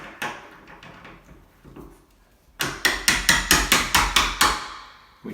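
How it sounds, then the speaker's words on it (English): Faint scattered taps, then a quick run of about eight sharp metallic hammer blows striking a punch under a door hinge pin knuckle in steady rhythm, close by. "we're going to try to hit underneath the knuckle, if you will, of the hinge, and drive that up"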